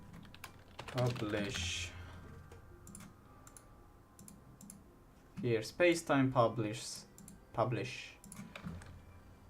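Computer keyboard typing during a programming session: soft, scattered key clicks run quietly beneath someone talking to himself about commands.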